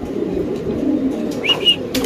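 A Spanish pigeon coos close by in a low, throaty murmur, with a couple of brief higher chirps near the end from other birds in a loft.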